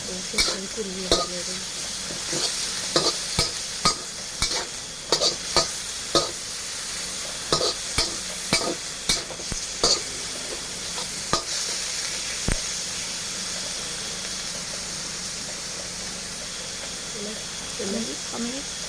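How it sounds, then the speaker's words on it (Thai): Pork stir-fried in a pan for mixed vegetable stir-fry, a continuous hissing sizzle punctuated by frequent rhythmic spatula scrapes and clacks, close, with someone talking over it at times. "แล้วผัดให้สุกนะคะ จนหมูแห้งนะคะ"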